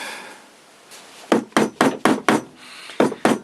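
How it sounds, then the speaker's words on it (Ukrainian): A hammer strikes the end of a Japanese chisel's wooden handle. After a quiet second come about nine sharp, close wooden knocks in a fairly steady rhythm, with a short pause before the last few. "Отак я гострою частиною прямо молотка. Отак по краю."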